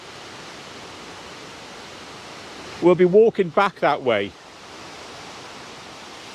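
Melincourt Waterfall in the Neath Valley pours as a steady, broad rushing hiss beneath a chapel, constant throughout, while someone briefly speaks over it.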